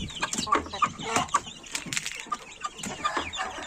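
Young chicks hatched in an incubator cheep and cluck in a busy, overlapping chorus of short calls, close by, with faint human voice in the background.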